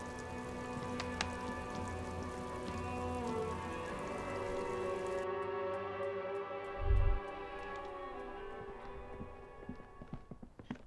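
Steady rain falls in the video game Disco Elysium, a dense continuous patter with a low ambient hum underneath, broken by one brief dull thump partway through before the rain thins slightly toward the end.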